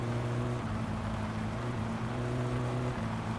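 An in-game car engine in My Summer Car runs steadily with a low, droning hum and a faint uneven roughness suggesting a fault, continuous and fairly close with no talk over it.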